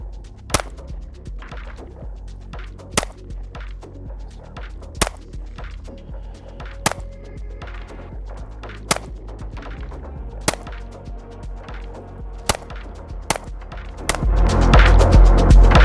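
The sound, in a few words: gunshots hitting a self-healing target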